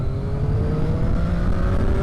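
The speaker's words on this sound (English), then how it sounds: "I just love that Triumph whistle" A Triumph Daytona 675R triple-cylinder sport bike engine runs steadily with a thin whine of the triple engine's whistle above its low, smooth drone, close and loud throughout.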